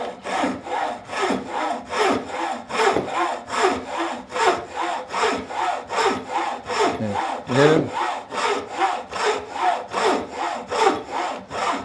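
A hand saw, traditional or modern, cuts through wood in a steady back-and-forth rhythm of about two strokes per second, close and fairly loud, each rasping pass clearly separated.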